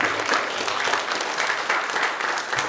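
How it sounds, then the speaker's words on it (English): A room full of people applauds in a steady, dense patter of hand claps that holds at moderate loudness from start to finish. "Do they normally clap for you when you're done speaking?"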